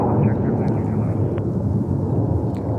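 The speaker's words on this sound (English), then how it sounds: "And there goes the next takeoff." At JFK airport in winter, a departing airliner gives off a broad, loud, roaring jet rumble that holds steady throughout, heard from a distance outdoors with a voice faintly present.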